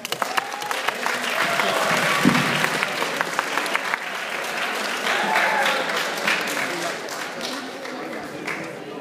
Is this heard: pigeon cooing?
no